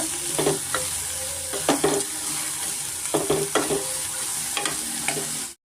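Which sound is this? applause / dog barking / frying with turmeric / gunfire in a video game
frying with turmeric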